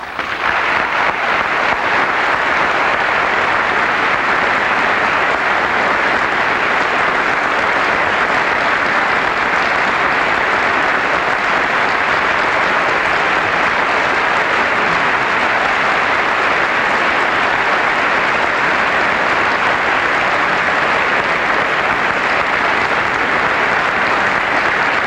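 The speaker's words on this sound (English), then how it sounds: "I have to say that that's very welcome applause." Sustained applause fills a large hall at the 1978 State of the Union address, a dense, steady roar of many hands that stays loud throughout without talk.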